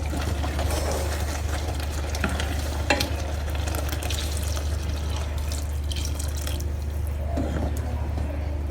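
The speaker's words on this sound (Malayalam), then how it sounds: "ഇതിലേക്ക് നമുക്ക് തേങ്ങാപ്പാൽ ചേർക്കാം" Tomato curry simmering and sizzling in a pan as coconut milk goes in, a steady bubbling hiss with occasional stirring clinks and a few louder splashes.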